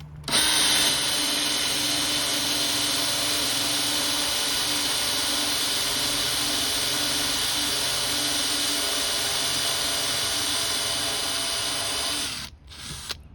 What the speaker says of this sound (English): it's drilling without any issues